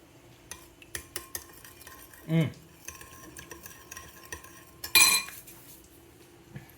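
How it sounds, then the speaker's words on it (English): A spoon stirs a sweet, salty, spicy sauce with sugar and chili oil in a bowl, giving scattered light clinks and taps and a couple of louder scraping swirls, fairly close and quiet. "So I'm just gonna stir until the sugar dissolves."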